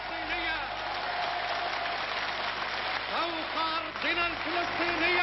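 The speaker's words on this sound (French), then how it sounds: "Tonnerre d'applaudissements" Applause from the Palestinian National Council assembly at the proclamation of the State of Palestine, a dense sustained roar of clapping with voices calling out over it, steady and loud throughout.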